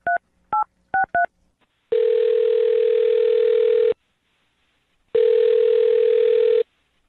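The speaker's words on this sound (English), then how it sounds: "I'm going to dial her phone number right now." Four quick touch-tone beeps are followed by two long, steady ringback tones separated by a pause, clear and close.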